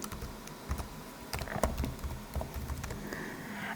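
Quiet typing on a computer keyboard while entering a search, a brief irregular patter of soft key clicks over low room noise.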